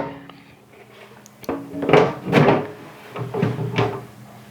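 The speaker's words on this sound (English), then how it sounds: "Should have closed the door." Clunks and rattles sound as a tray slides into a food dehydrator and its door bumps shut, several close knocks spread over a few seconds.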